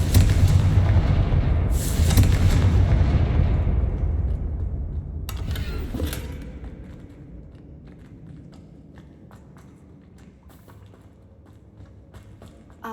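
Confringo fire spells blasting in Hogwarts Legacy: a heavy explosive boom at the start, a second strong blast around two seconds, then sharper cracks near five and six seconds before the sound fades into quiet footsteps and light clatter.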